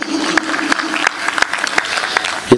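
Audience at a Hindi comic poetry recital giving brief, sparse applause: a thin scatter of individual claps that tails off quickly, ending with a short bump of sound.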